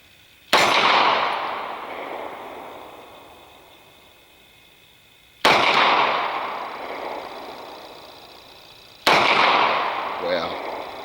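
A CZ P07 pistol fires three loud, sharp shots several seconds apart, each crack followed by a long, fading outdoor echo.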